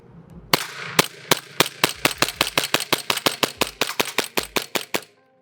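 An airsoft pistol shooting through a full CO2 magazine in cold weather: roughly twenty sharp, snappy pops in quick, slightly uneven succession, close and loud, ending abruptly when the magazine runs dry.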